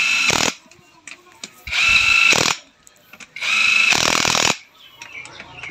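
A power tool tightens motorcycle bore kit bolts in three loud whirring bursts of about a second each, separated by short quiet gaps with faint clatter.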